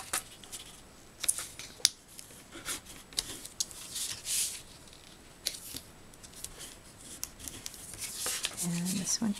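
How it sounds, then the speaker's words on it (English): A bone folder scores and creases paper for a school-themed treat box, giving sharp scraping swipes and soft paper rustles close by, while a person talks over the handling. "But I'm using my bone folder."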